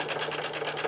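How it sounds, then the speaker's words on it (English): A manual-swapped Toyota Soarer gearbox rattles at low RPM, a fast, steady mechanical chatter from loose gears, brief and moderately loud with no talking. "basically it's quite a noisy gearbox, and the reason for that is the slop in between the gears."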